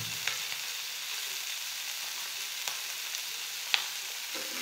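Fresh puti fish frying in hot oil, a steady soft sizzle with a few faint pops and utensil clicks, close and continuous with no talking.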